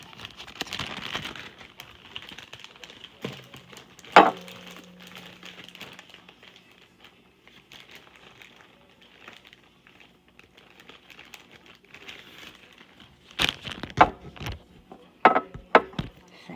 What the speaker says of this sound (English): Gonna put my two strips in the bag.